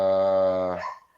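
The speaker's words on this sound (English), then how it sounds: "You are hearing my dog." A dog lets out a single drawn-out, nasal whimpering whine, close and fairly loud, tapering off into a faint trailing growl-like tail with no one talking.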